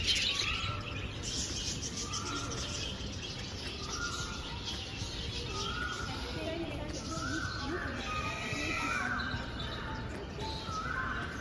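Small birds chirp and tweet repeatedly on a college campus in Bangalore, with short calls scattered across the scene over a constant outdoor hiss while people talk nearby.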